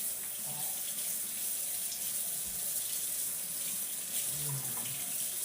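Kitchen tap running steadily into a sink while an orange and a lemon are washed under it, a constant close rush of water with faint splashes and clunks as the fruit is handled.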